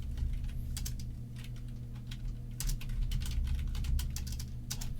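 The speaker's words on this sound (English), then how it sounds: "I cannot type this keyboard." Rapid, uneven clacking of keys on a computer keyboard during a podcast recording, a steady close patter of keystrokes with brief pauses and a low hum underneath.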